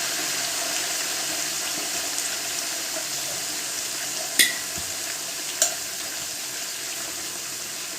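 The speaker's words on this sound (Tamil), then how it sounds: "வெங்காயத்தை போட்டாச்சு. நல்லா வந்து கிளறிடலாம்." Steady broadband sizzling hiss of onions frying in a large pot for chicken biryani, with a couple of brief metallic scrapes or clinks from stirring partway through.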